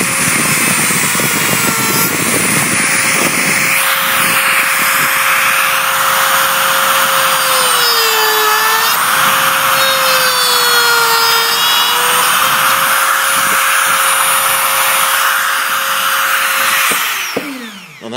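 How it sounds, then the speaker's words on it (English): A Dremel rotary tool cuts steadily with a high, whining drone that dips in pitch under load, loud and close for most of the clip before stopping abruptly near the end. "this Dremel's making things so easy"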